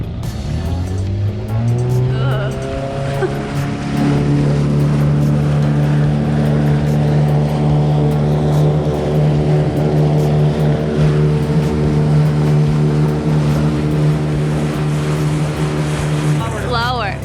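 A vintage 1961 Mercury 6 HP outboard motor on a 12-foot boat starts and revs up, then runs loudly at a steady droning pitch for a long stretch, with water splashing around it.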